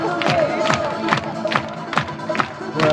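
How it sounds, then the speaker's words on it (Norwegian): A crowd at Aker Brygger in Oslo claps and cheers loudly, with rhythmic bursts of clapping and voices mixed into the noise. "Prøver å sprøtte opp med all den applausen"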